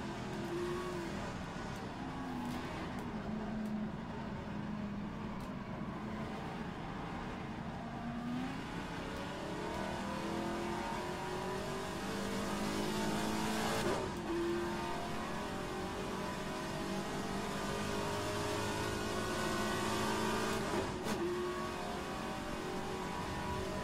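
Race car engines roar continuously in a 1970 Trans Am racing game at Riverside, rising and falling through revs and gear changes, with other cars audible nearby and no talking.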